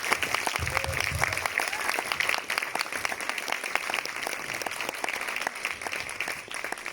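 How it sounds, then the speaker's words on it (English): Audience applause fills a theater at a movie premiere at the TCL Chinese Theater in Hollywood, steady and fairly faint, with a few brief voices mixed in. "Let's give them all a round of applause."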